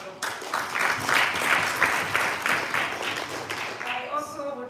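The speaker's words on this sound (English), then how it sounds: "I think it deserves a really great round of applause." A crowd at a live event bursts into a sustained round of applause that swells and holds steady for several seconds, with a voice cutting in near the end.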